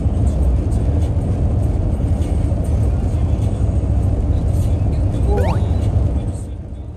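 A car driving through heavy snow on a road in Utah toward Bryce Canyon National Park, a loud steady rumble of engine and tyres throughout, with a short whine near the end before the noise eases off.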